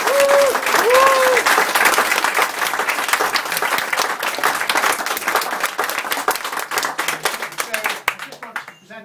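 Audience applause at a retirement leaving speech for hospital consultants, warm sustained clapping from a room of people that carries a brief voice at the start and tapers into a few final claps.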